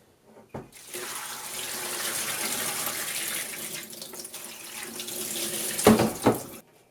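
Tap water runs steadily into a sink while Napa cabbage soaked overnight in salty water is rinsed for kimchi, a continuous hissing splash that briefly clatters and sputters near the end.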